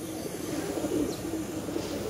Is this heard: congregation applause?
no